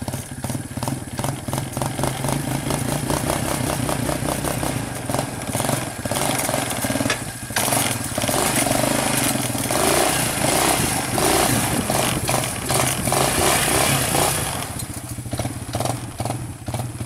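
A Suzuki Ozark 250 ATV engine runs steadily nearby with a buzzing, slightly clattery idle and rising and falling revs throughout, alone with no talk.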